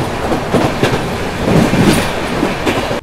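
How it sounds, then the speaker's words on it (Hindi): A Rajdhani Express train runs at high speed past Aligarh station after dusk, making a loud, steady rushing rumble with rhythmic clickety-clack wheel beats over the rails. "सूरज ढलने के बाद अलीगढ़ को ट्रेन ने जिस रफ्तार में स्किप किया"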